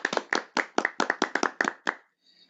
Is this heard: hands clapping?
yes